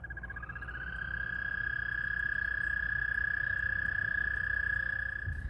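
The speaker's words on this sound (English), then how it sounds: "if you listen, you can hear the frogs" Frogs calling steadily in an early spring garden, a dense continuous high trilling chorus that swells in over the first second and holds loud and unbroken, with low background rumble beneath.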